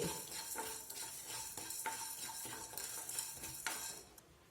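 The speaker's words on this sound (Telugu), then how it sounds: "హాఫ్ టేబుల్ స్పూన్ జీలకర్ర కొద్దిగా మెంతులు కొద్దిగా మిరియాలు వేసుకొని దోరగా వేయించుకోండి" Coriander seeds, cumin, fenugreek and peppercorns roasting in a pan for a beetroot fry spice mix, stirred with a spoon: soft rhythmic scraping strokes over a faint sizzle, quiet and close, fading at the end, with no voices.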